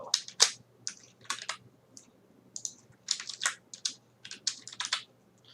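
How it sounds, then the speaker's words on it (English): Computer keyboard typing in bursts of sharp, close clicks, several quick keystrokes clustered with short gaps between them, alone and without speech. "Let's just type hello."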